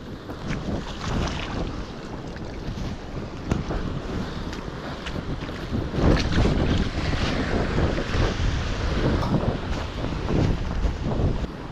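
Strong wind buffets a microphone on a North Wales beach while sea fishing, a loud continuous roar with gusty surges and crashing surf beneath, no voices.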